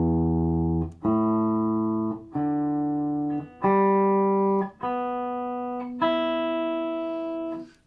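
A Les Paul electric guitar played through a Marshall amp rings out as single sustained notes, about six strings plucked one after another with a pause before each, loud and clean as the tuning is checked.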